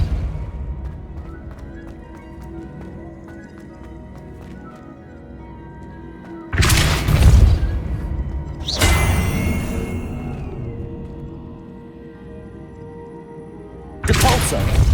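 Depulso spell cast in Hogwarts Legacy: three sudden loud whooshing blasts with rumbling low end, the second trailing into a sliding whine, separated by stretches of quiet game ambience.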